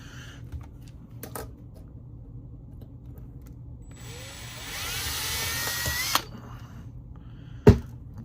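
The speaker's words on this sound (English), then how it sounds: "with the drill" A high-pitched drill whine bores steadily through plastic for a couple of seconds, then cuts off, with scattered handling clicks before and a sharp knock afterward.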